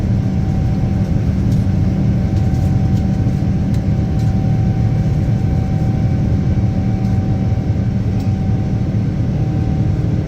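Rolls-Royce Trent 1000 engines on a Boeing 787 at takeoff give a loud, continuous, broadband roar with a steady whining tone running through it, unbroken from start to finish.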